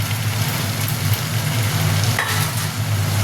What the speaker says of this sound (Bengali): এবারে এর মধ্যে আমি এই যে ভাজা মাছগুলো আছে এগুলো দিয়ে দেবো।